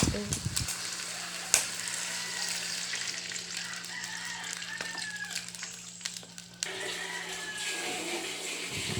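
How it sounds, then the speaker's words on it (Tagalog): Pig blood is stirred continuously in a pan of dinuguan, a steady close hiss of cooking with scattered light scrapes and knocks from the stirring and a low hum underneath, with no talking. "haluin ko lang po ng haluin para po hindi po mamuo yung dugo"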